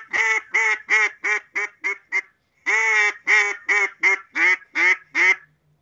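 Hand-blown duck call imitating a mallard hen, with a nasal, growly tone: two close, loud runs of about seven descending quacks each, separated by a short pause.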